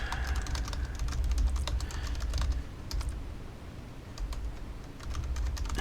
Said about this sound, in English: it actually has a really